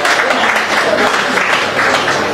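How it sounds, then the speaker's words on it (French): A crowd applauds an all-round artist at a Paris album launch. The clapping is dense and steady and fills the full stretch without a break. A voice speaks faintly somewhere beneath it. "Est-ce qu'on peut l'applaudir encore très fort, s'il vous plaît?"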